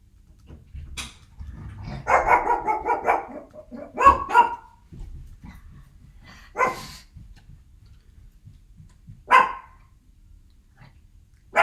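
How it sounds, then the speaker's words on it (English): A pet dog barks several times in short bursts indoors, moderately loud and fairly close, with gaps of quiet between the barks and no talking. "Excuse my dog barking there."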